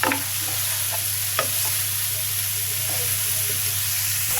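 Bay leaf and green chilies fry in hot oil with a steady, loud sizzle. A few soft scrapes and clicks of stirring come through over a constant low hum.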